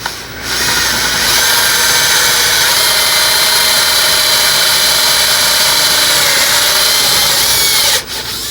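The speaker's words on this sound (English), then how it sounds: "Forstner bit and making a few holes so I can get my jigsaw blade in there." A Forstner bit bores holes through a wooden piece backed by another board, a loud steady drilling whine running continuously for several seconds with a brief stop near the end.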